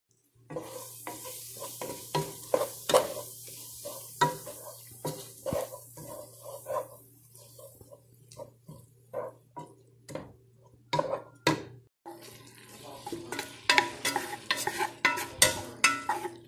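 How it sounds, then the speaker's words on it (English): A spoon stirring stroganoff in a pot on the stove, a series of close, irregular scraping and clinking strokes over a faint steady sizzle, with no talking. "And then just give that a stir."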